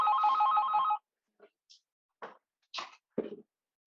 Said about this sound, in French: j'ai oublié de débrancher mon téléphone